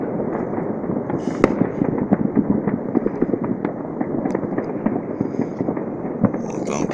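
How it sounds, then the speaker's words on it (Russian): Continuous crackle and popping of many New Year fireworks over Odessa, dense rapid bursts at a moderate distance with a few sharper nearer bangs, heard without talk. "Вот то салютов на 7-м набрали, а?"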